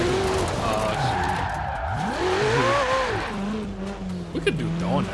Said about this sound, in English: I'm trying to drift without the handbrake too.